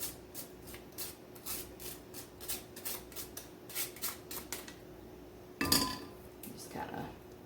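Canned green chilies are stirred and pushed around a pan with a utensil, making a quick run of rhythmic scraping strokes followed by a couple of louder clattering knocks near the end.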